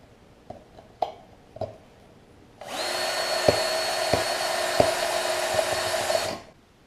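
A power drill widens about fourteen pre-drilled holes in a metal fruit can for a gasifier stove, running as a loud, steady whine for several seconds with a few sharp bumps, after some light tapping and clicks.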